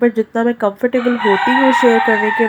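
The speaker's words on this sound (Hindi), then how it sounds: "आपको यहाँ पे मेरे मुर्गे की आवाज़ सुनाई दे रही होगी" A rooster crows loudly nearby in the daytime, a long drawn-out call that starts about a second in. Someone talks just before the crow and keeps talking over it.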